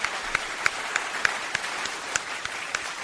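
Applause sound effect played on a talk radio show, a thin loop of clapping with regular sharp claps standing out, fairly quiet and alone with no talk over it.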